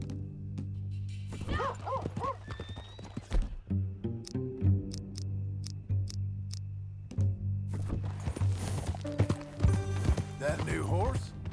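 Horse hooves clip-clop in Red Dead Redemption 2 as a rider sets off, with a steady trotting rhythm under an ongoing music bed, mixed with game dialogue and occasional dog barks.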